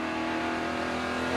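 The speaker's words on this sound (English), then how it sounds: "Let's ride on board with Allgaier." Steady, dense engine drone from a NASCAR Nationwide race car at Kentucky, recorded on board; a sustained high-revving roar that stays loud and even across the short stretch, with no voices.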